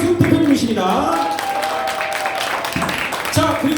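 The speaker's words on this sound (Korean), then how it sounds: "박수 부탁드려요" Audience applause greets a guest being introduced at a Korean results-sharing event, steady clapping throughout with a host talking over it.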